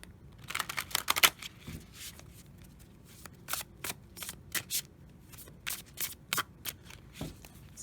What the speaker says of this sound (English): One more quick shuffle here.